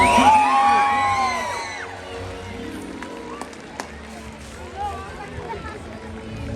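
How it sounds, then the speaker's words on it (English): An outdoor SeaWorld San Diego Orca Encounter crowd lets out whoops, shouts and cheering that start loud and quickly fade into a softer murmur of voices and a few stray claps and calls. "How about a nice round of applause for both of them?"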